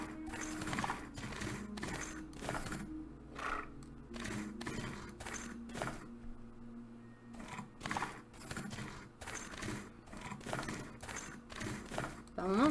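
Horse hooves clip-clop in a Western cowboy life simulator game, repeated rhythmic hoofbeats running through most of the stretch under steady background music and game sounds, with a short neigh near the end.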